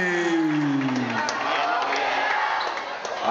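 Large crowd cheering and whooping at a barangay basketball semifinal game, a loud, continuous roar with an announcer talking over it.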